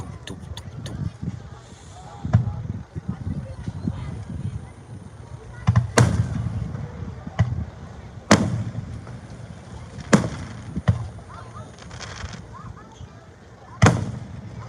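A town fireworks finale goes off at a distance, with repeated booming explosions and pops at irregular intervals over a rumbling crowd background with voices talking.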